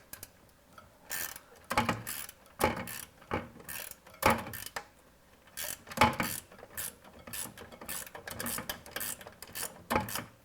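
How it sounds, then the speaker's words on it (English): Ratcheting wrench turning an intake base bolt in a cramped engine space, short bursts of quick clicking ratchet strokes repeating every second or so, close and fairly quiet with no talking. "I can use the ratcheting part of my wrench, or if you have a socket set,"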